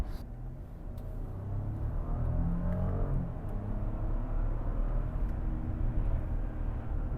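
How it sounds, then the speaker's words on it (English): An Audi Q7 55 TFSI e plug-in hybrid engine revs and builds steadily under acceleration, a low rumbling roar that holds strong throughout, with no voices over it. "Beautiful sound from the engine"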